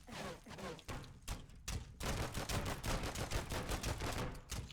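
Sentry turret firing in the video game Regain Earth: First Strike, a loud, dense barrage of rapid gunshots that starts sparse and becomes continuous, with no talking.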